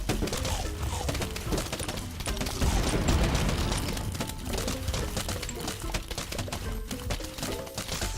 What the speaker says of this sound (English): I love the sounds of the explosions and balloon popping.